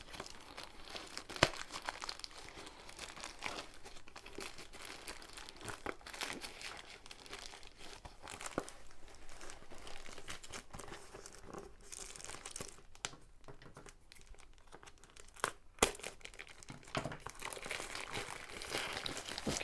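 Close, quiet crinkling and tearing of plastic packaging as a diamond painting kit from AliExpress is opened, with a continuous rustle and occasional sharper rips.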